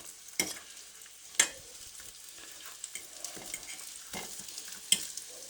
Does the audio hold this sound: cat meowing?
no